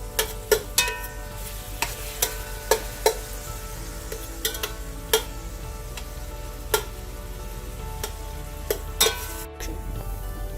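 Chunks of sausage fry in a pan with a steady soft sizzle, while a utensil scrapes and taps against the pan at irregular intervals as the meat is stirred and broken up.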